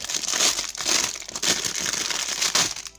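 Plastic packaging crinkles and crumples steadily as a mail-order package is unwrapped up close, with bursts of rustling and no talk.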